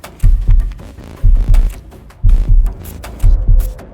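Heartbeat sound effect in a suspenseful narrated story, a deep, close lub-dub thumping in four evenly spaced double beats, loud and alone with no voice over it.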